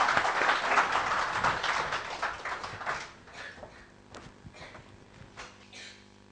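An audience greets a singer with a burst of clapping that starts dense and fairly near, then thins into scattered individual claps as it fades out.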